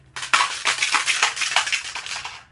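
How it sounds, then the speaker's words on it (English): Plastic blender bottle shaker being handled and rattled, a short burst of crinkly plastic clattering and knocking up close, alone without talk. "This here is a blender bottle."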